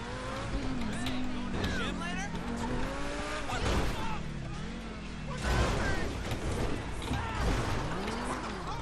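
A car drives through a video game scene with an engine hum, shifting pitch and tire squeals, while a person talks over the game sound throughout.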